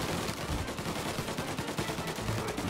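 Dense, continuous gunfire in a Mafia 1 Remake shootout: overlapping rapid shots and automatic bursts fill the whole stretch at steady, close loudness with no pauses.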